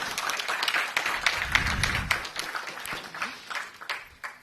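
Audience clapping at an engineers' day event in Lima, a scattered patter of hands that swells briefly near the middle and thins out toward the end, with faint voices underneath.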